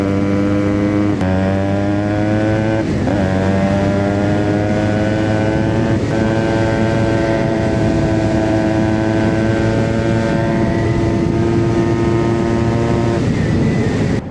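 Yamaha RX100 two-stroke motorcycle engine heard while riding, a loud close droning exhaust note that holds steady then shifts pitch at gear changes and throttle dips, running continuously for about fourteen seconds with no talking.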